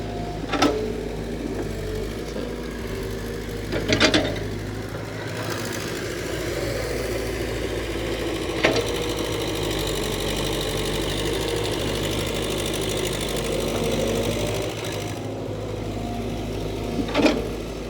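A car engine idles steadily under air-conditioning load with a low, constant rumble, broken by a few sharp clicks or knocks, with no voices.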